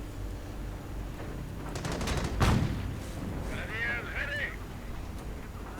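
Battle noise from a WWII real-time strategy game, with a burst of rapid gunfire and a heavier blast in the middle, followed by a short squealing effect, all under a commentator's talk.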